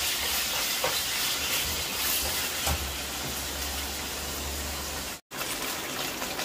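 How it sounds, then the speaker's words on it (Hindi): Strips of chicken fry in a pan until browned, giving a steady, loud hiss and crackle of sizzling oil that runs nearly unbroken, with a brief cut to silence near the end. "अभी चिकन को मैं पकाऊंगा जब तक अच्छी तरह ब्राउन ना हो जाए।"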